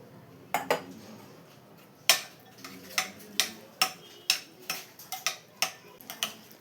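Vegetables and egg being mixed with mayonnaise in a bowl for a sandwich filling, heard as a series of sharp spoon-against-bowl clinks and taps in an irregular rhythm, close and fairly quiet, with no talking.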